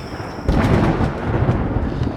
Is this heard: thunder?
yes